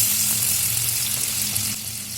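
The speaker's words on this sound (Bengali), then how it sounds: "তেল যখন গরম হয়ে যাবে এটাই দিয়ে দেবো তখন আলুগুলো দিয়ে লাল লাল করে ভাজতে হবে" Chopped potatoes fry in hot oil in a wok, a steady close sizzle that eases slightly toward the end, with no talking.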